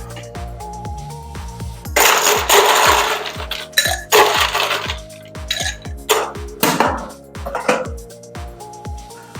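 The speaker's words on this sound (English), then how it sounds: "All right, then we're gonna add some ice." Ice cubes dropped into a glass for a maple bourbon cocktail: a run of loud, close clinks and rattles as cubes hit and tumble against each other, with bright ringing tones between clusters.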